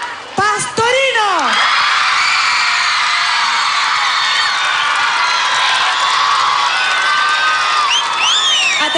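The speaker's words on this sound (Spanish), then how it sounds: "Aplausos para el italiano que canta, que actúa." A television studio audience on a Spanish-language morning variety show cheers and whoops loudly and continuously, with brief shouts at the start and end and excited voices mixed into the crowd noise.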